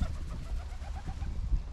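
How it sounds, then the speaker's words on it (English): Pigeons coo softly in Anfield Cemetery, a few low, throaty murmurs rising over quiet outdoor ambience, fairly close but faint and with no talking. "Got pigeons joining us."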